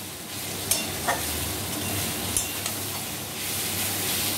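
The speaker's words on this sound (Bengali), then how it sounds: "সব উপকরণগুলো একসঙ্গে মিশিয়ে একটু ভাজা ভাজা করে নিতে হবে।" Ingredients for potol korar ghonto, a Bengali pointed-gourd dish, are stirred and fried in a pan over raised heat. The oil sizzles steadily and close, with a few sharp scrapes of the utensil.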